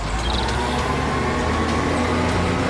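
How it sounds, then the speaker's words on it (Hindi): A truck engine rumbles steadily and close by, a low droning hum with a faint hiss above it that holds an even loudness throughout, with no talking. "गुरजीत ने अपना ट्रक निकाल लिया और पप्पू ट्रक के अंदर बैठ गया।"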